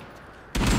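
A sudden loud burst of gunfire in the survival video game Rust, starting after a quiet moment and filling the rest of the clip as a dense, close volley.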